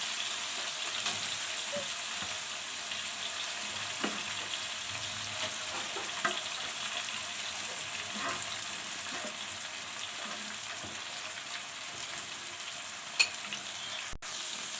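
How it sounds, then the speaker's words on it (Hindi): Garlic and ginger hit hot oil in a pan with golden-brown fried onions while cooking a carrot, pea and potato curry, giving a steady, fairly quiet sizzle with small crackles and a few stirring scrapes throughout. "जी प्याज जो हमारे गोल्डन गोल्डन ब्राउन हो चुके हैं। अब हम इसमें लहसुन अदरक ऐड करेंगे।"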